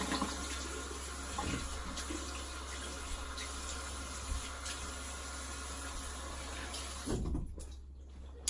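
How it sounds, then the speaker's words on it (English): Steady tap water running while a straight razor is rinsed, a continuous close hiss and splash that cuts off near the end, with some faint clinks under it. "I'm just gonna rinse."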